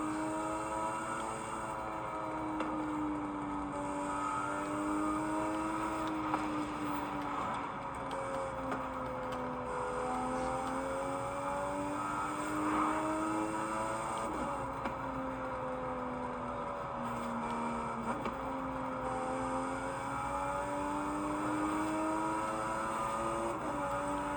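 A Toyota Supra driven in Forza Horizon 5 free roam: a steady game engine drone that rises and falls in pitch as the car speeds up and eases off, loud and continuous, with no talking.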